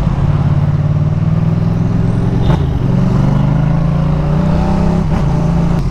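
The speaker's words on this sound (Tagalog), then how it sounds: "Madungog lang gyapon ang rumble sa crossplane 2." A Yamaha MT-07 with a crossplane twin engine idles and revs close by, a steady deep rumble with a couple of brief throttle blips and no talk.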